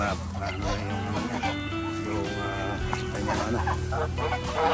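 A flock of ducks quacking and honking continuously, loud and close, dense overlapping calls with someone talking underneath.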